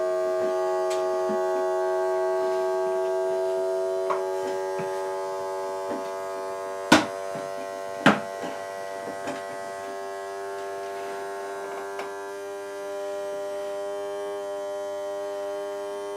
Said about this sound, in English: I'd say that took a good 45 seconds to a minute to pull a vacuum